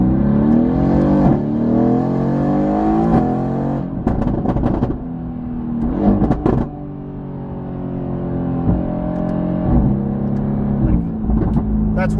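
A Mercedes-AMG GT R fitted with a complete Fi exhaust system revs hard up close, its loud roar repeatedly climbing and falling in pitch with sharp crackling bursts between pulls.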